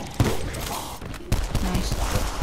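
Gunfire rattles through a video game wave shootout in a few sharp bursts of rapid shots over a steady, dense background of game noise.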